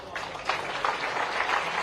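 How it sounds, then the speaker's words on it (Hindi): Applause from an audience at a welcome ceremony at a Chief Minister's residence honoring a world-champion cricketer, a steady wash of clapping for about two seconds, moderately loud with a voice faintly underneath. "एक बार जोरदार तालियां।"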